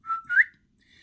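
A person whistles two short, clear rising notes within about half a second, close and alone, followed by a faint higher tone.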